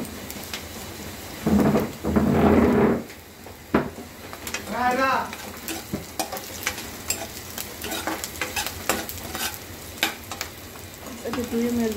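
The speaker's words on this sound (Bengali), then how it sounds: "কালো জিরে ফোড়ন" Black cumin seeds are tempered in hot oil for a fig dish, with a sudden loud hiss and spitting burst that then settles into a steady, softer sizzle, as a voice talks over it.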